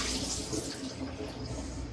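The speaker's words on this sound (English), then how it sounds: "I'm just going to drain the water off" Water poured off sliced potatoes in a kitchen, a continuous broad splashing rush with steady loudness and no speech.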